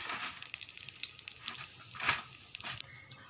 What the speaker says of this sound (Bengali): এবার এর মধ্যে আমি কিছুটা কালা জিরা দিয়ে দিচ্ছি।